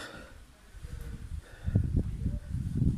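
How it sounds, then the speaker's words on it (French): Strong wind buffets the microphone outdoors at night at a château with a low, rumbling roar that grows gustier in the second half. "il y a beaucoup de vent"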